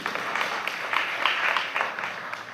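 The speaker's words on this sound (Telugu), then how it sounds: "అందరు గట్టిగా చప్పట్లు కొట్టండి" A church congregation at a Sunday service claps together, a dense, moderately loud patter of many hands that holds steady for a few seconds.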